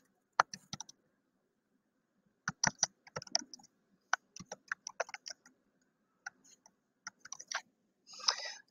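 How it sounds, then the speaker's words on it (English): Keys clatter on a computer keyboard in short, uneven bursts of typing with pauses between them. The sound is close but quiet against a silent background. "Okay, I have typed it."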